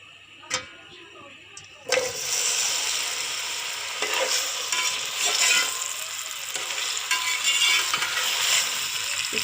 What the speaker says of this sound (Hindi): 2 या 3 मिनट फ्राई करना है आपने, ताकि इसकी जो लेस है वो ख़त्म हो जाए।